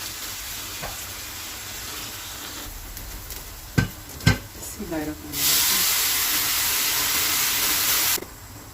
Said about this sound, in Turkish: kaynayan suyumu ilave edeceğim şimdi